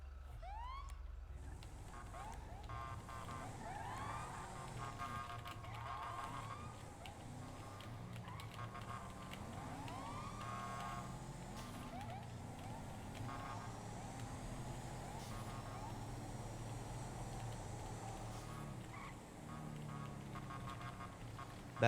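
Police car sirens wail and yelp continuously in the FiveM role-play game, rising and falling tones over a steady engine drone, with brief talk at times.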